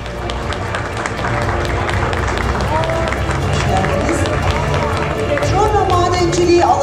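Audience applause at a mining awards ceremony, dense clapping and crowd noise filling a hall, with a voice speaking over it and brief higher-pitched vocal sounds near the end.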